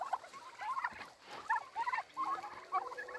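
Turkeys out on an evening walk gobble repeatedly in short warbling bursts, fairly close and moderately loud, with faint shuffling in the background.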